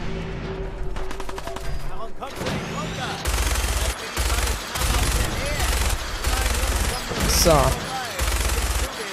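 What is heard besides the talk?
minigun firing in video game Fallout 4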